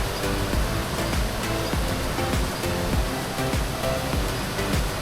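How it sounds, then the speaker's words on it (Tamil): Water rushing down a mountain stream on the Agathiyar Malai trek in the Pothigai hills of Tamil Nadu, a loud, continuous broadband roar with no voices. "ஓடுற தண்ணி தான், உங்களுக்கு பார்த்தாலே தெரியும்."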